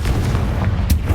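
A deep, rumbling blast of the Confringo explosive spell from Hogwarts Legacy fills a brief moment with a loud, low boom.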